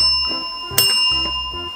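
A buzzer-style answer bell is pressed once in a family quiz game in Thailand, a single bright ring standing out over quiet room background with faint low murmurs around it.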